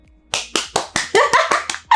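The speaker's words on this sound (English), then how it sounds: "Don't you think I deserve a clap for that?" One person claps about nine times, close up and sharp, the claps spaced at a brisk, slightly uneven rhythm with no voice.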